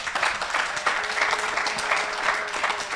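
An audience at a talk on photography and science claps steadily and fairly close, a dense even applause that holds for the whole span without pause.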